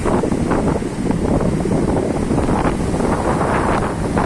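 Sea waves and wind on a coast after a cyclone, near a marine drive lined with geo bags under rain clouds: a steady, loud roar of wind buffeting the microphone over continuous surf wash, with no talk.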